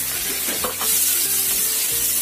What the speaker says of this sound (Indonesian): Tambahkan semua bumbunya yang sudah kita buat tadi, bawang putih, jahe, cabai, dan daun bawang.